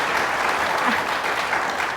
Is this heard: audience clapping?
yes